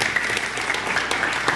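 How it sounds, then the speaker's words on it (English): A church congregation claps together, a quick, steady patter of many hands at moderate loudness filling the short stretch without a break. "Did you just clap for yourself?"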